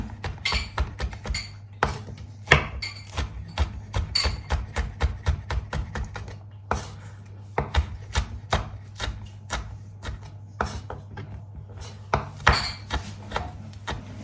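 Rapid, rhythmic knife chopping of chili peppers on a board, close up, in quick runs with brief pauses between bursts, no voices.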